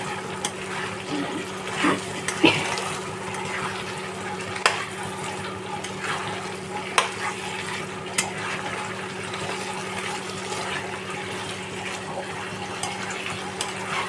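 Drumstick and potato poppy-seed curry being stirred in a pan gives soft scraping and faint sizzling under a steady low hum, with a few sharp clinks of the spoon against the pan and no talking.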